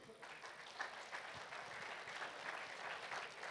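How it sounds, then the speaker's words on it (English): Steady applause from a conference audience at the TechHR India 2019 event, dense and sustained clapping filling the hall for several seconds, heard at moderate distance without talk over it. "Ladies and gentlemen, a huge round of applause for Aarti."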